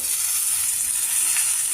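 Chopped green chillies and asafoetida sizzle in hot tempering oil, making a steady, dense frying hiss close up with no pauses.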